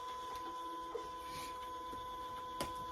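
A thermal printer prints a shipping label, giving a steady, faint mechanical whir with a constant tone, and a few light clicks spread across the run.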